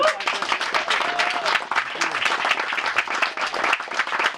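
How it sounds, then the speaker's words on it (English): An audience at a keynote talk applauds, uneven clapping with scattered cheers and voices mixed through it, fairly close and moderately loud. "let's everybody give a round of applause to these guys"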